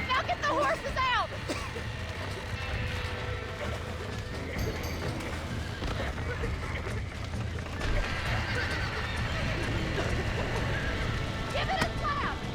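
Horses in the video game Red Dead Redemption, a whinny near the start and again near the end over a busy bed of galloping hooves, rumbling action sounds and shouting voices.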